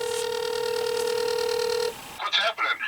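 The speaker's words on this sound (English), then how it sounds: "I'm going to see if I can make a phone call while I'm down here." Phone call being dialed 100 feet underground: a steady tone rings out close and clear for about two seconds, then cuts off and a person starts talking.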